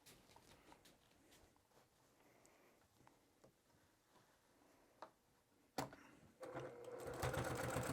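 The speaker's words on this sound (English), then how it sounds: "I'm going to top stitch this edge right along here to create the casing for the bag." A sewing machine top-stitches a fabric drawstring bag casing, starting with faint ticks and clicks and then running into a steady, louder mechanical whir near the end, close by and with no talking.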